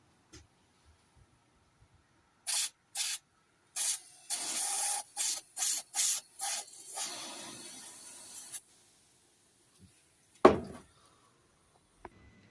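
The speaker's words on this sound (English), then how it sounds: "I'll spray some brake cleaner through." Brake cleaner is sprayed through the hot DPF pressure port of a Citroën Peugeot C4 1.6 BlueHDi in about eight sharp hissing bursts, ending with a longer spray, then a single clatter a moment later.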